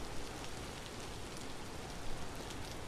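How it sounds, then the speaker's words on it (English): Steady, dense rain hisses over the ground in the video game Vintage Story, a loud, continuous wash of droplets with no voices. "And I'd like to get out of this rain."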